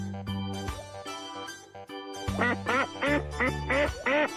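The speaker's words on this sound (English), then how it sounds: "Duck." Duck quacking in a children's animal-sounds quiz game: a series of loud, nasal quacks, a few spaced at first, then a quick rhythmic run of calls over a sustained musical backing.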